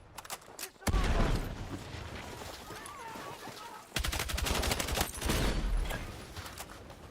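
Gunfire in Battlefield 6 comes in loud automatic bursts and single cracks over a dense battlefield din, with heavy volleys near the start and again midway and a voice talking in between.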